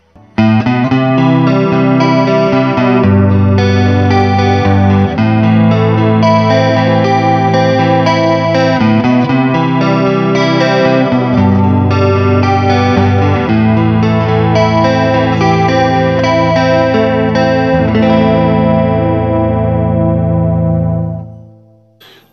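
A Jet Guitars Telecaster on its neck pickup plays through a chorus effect, a warm, thick, shimmering run of notes and chords, loud and steady, then fading out at the end.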